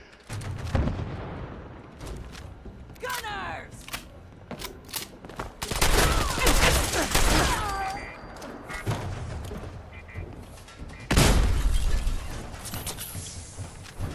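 Heavy video-game gunfire with booming artillery-like blasts and rapid volleys, loud and dense throughout, with a player's voice speaking in between.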